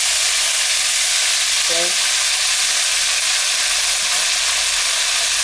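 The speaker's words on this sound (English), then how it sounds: "So take the beef out of the bag, and then boom, right on the pan." Beef with garlic hitting a hot non-stick pan, a steady loud broadband sizzle and hiss filling the whole stretch, with a brief spoken word partway through.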